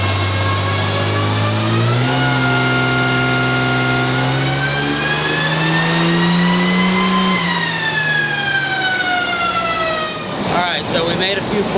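Diesel truck engine with an HE351 turbo revs hard and holds high during a test pull, pitch climbing steadily, then winds down, loud and close throughout with a brief rattling burst near the end.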